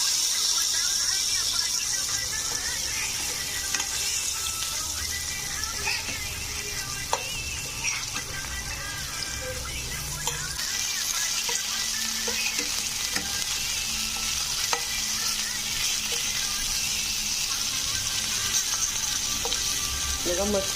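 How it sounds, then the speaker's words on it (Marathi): Fresh Bombay duck (bombil) fish sizzling and frying in a hot pan, a steady crackling hiss throughout with occasional soft stirring and turning sounds, close and fairly loud with no talking. "बघा, मस्त कडक फ्राय झालेले आहे."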